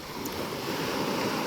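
Surf rolling onto White Sand Beach in Puerto Galera, a steady broadband wash of waves with some wind rumble, close and fairly loud, with no voices.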